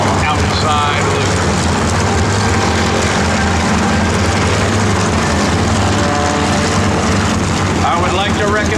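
An aerobatic airplane performing an outside loop at a joint services airshow, its propeller engine droning loud and continuous while an announcer talks over it.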